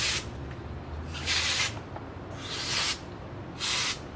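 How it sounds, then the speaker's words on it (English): Carburetor cleaner sprayed onto a 2006 Honda Big Ruckus 250cc scooter part in four short, close hissing bursts separated by brief quiet gaps. "I'm going to clean this with carburetor cleaner"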